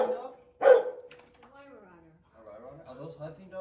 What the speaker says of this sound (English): Is that a hunting dog?